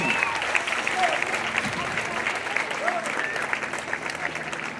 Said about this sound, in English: Let's give one more round of applause for the class of 2019.